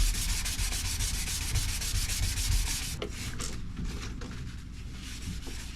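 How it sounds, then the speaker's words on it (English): Steady abrasive sanding of gel coat on a C-Dory TomCat boat helm, a dense continuous rasp that grows more broken and uneven after about three seconds, close and alone with no talking. "This needs to be sanded a little bit more up there."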